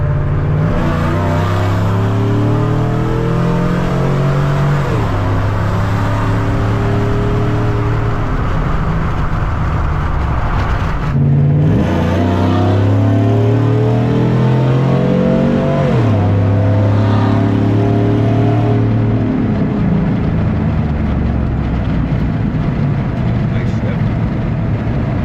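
A Silverado truck with a swapped 6.0L LY6 V8 and a BTR Truck Norris cam pulls hard from inside the cab, its engine note rising through the gears with clear drops at each shift, loud and continuous, with talking over it.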